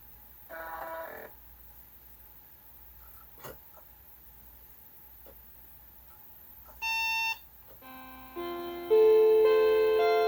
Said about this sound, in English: That's a classic sound. We're booting right into Windows 98.